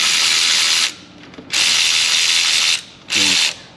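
Ratchet loosening the rear differential nut on an Infiniti G37, three loud close bursts of rapid buzzing clicks separated by short quiet gaps.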